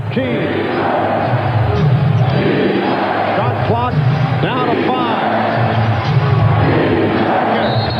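A home crowd at an NBA Finals basketball game between the Chicago Bulls and Seattle SuperSonics roars in a dense, sustained wall of cheering and shouting throughout, with a commentator talking over it.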